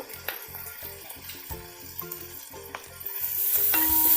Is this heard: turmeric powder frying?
yes